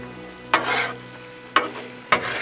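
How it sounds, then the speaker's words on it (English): A spatula stirs a banana mixture on a Blackstone griddle during banana pecan French toast prep, giving three short scraping strokes over a soft, steady sizzle with no talking. "So now just come over here and give this a good stir."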